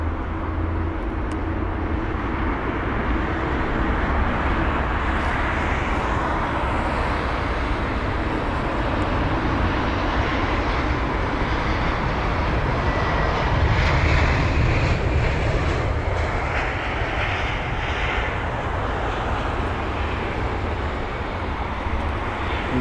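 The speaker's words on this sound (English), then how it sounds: "that is the stunning departure of that Etihad 380" Etihad Airbus A380 departing London Heathrow, a loud, sustained jet engine roar that holds steady throughout, swelling slightly midway with broadband rumble and no speech.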